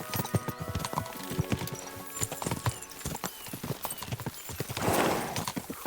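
Horses gallop in Kingdom Come Deliverance 2, with close, loud, fast clip-clop hoofbeats in a steady driving rhythm, a brief neigh, and dense ambient game sound throughout.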